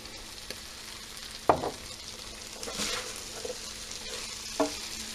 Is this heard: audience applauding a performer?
no